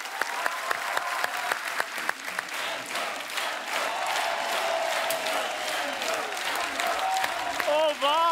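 A studio audience at a comedy talk show applauds, dense clapping that swells and holds for several seconds, loud and close, with cheering and a voice coming through near the end.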